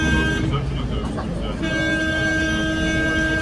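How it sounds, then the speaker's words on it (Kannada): A vehicle horn sounds on a busy Barcelona street beside a bus stop, one sustained honk rising over the traffic noise in the second half, with people talking nearby. "ಹಾರನ್ ಮಾಡ್ತಿದ್ದಾರೆ ನೋಡಿ"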